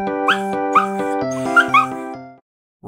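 A puppy barks in a series of short, loud, evenly spaced yips set in children's animal-spelling content, with no talking, then a brief silence.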